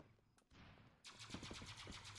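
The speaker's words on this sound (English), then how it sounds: "Just hear gunshots." Bursts of rapid gunfire from a shooter video game, a brief crack early on, then sustained fast automatic shots from about a second onward, fairly loud and close with no talk over them.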